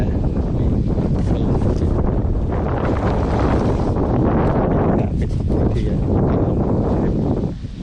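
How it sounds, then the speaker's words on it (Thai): Strong wind buffets a family instant tent at a campsite, a loud, continuous roaring rush with gusty swells and flapping, close to the microphone, with someone briefly speaking in Thai. "อันนี้คือลมมาค่อนข้างแรงอยู่นะ"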